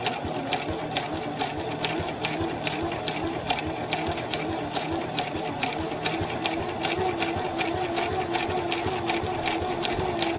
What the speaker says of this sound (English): I sewed the piping to one bodice piece with a basting stitch